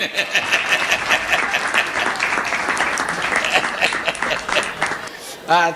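An audience claps at a comic poetry evening, dense and fairly loud with clear individual hand strikes throughout, ending abruptly as a voice cuts in at the very end.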